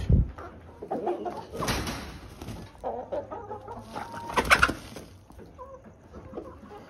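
A flock of 18-week-old pullets clucking and calling on a small egg-laying farm, bursts of overlapping hen calls rising and falling over steady barnyard background noise.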